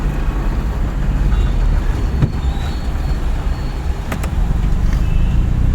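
A car engine drones loudly and steadily in second gear during a driving lesson, with road rumble and the occasional faint click but no talking.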